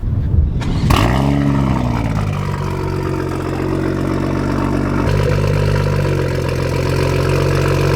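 A BMW B58 engine with a downpipe turns over on a cold start and settles into a steady, loud idle with a deep rumble, running close by with no voices.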